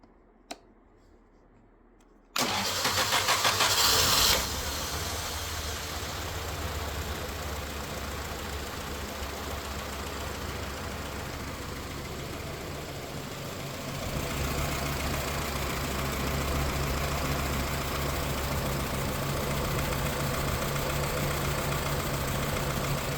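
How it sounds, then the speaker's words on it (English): A car engine fitted with a carburetor vapour separator restarts after a short silence and settles into a steady, loud idle with a low rumble that runs alone for about twenty seconds. "And we start right up with very little vapor in the carb line."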